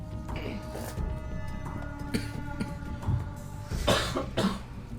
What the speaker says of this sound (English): But do you know how long a cough lasts?